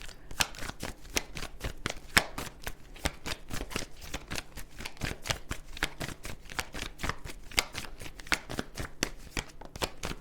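Tarot cards are shuffled at close range in a long, steady run of quick riffling flicks, faint and even with no talking.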